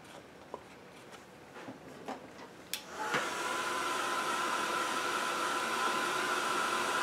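A hair dryer blows on freshly stencilled paint: a few light taps and clicks, then a steady, fairly close whirring hiss that starts a few seconds in and continues to the end.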